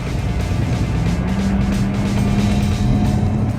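A car engine revs hard under acceleration, a loud, steady near drone whose pitch climbs gradually across the few seconds, with no talking over it.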